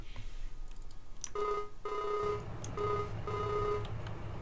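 Telephone ringing in Farming Simulator 19, a repeating electronic ring tone sounding in several short bursts over a steady background hum, with no talk.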